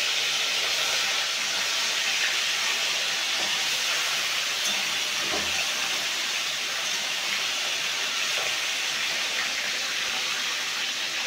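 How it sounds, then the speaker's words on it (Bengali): Whole fish of about 400 grams each fry in hot oil in a pan, giving a steady, loud, broadband hiss and sizzle that runs unbroken throughout with no talking. "তো বন্ধুরা ওদিকে মাছ ভাজাচ্ছে"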